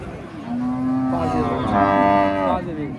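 A Holstein Friesian cow at a busy cattle market gives a loud, close, drawn-out moo that rises and swells midway, lasting most of the moment with faint crowd noise behind.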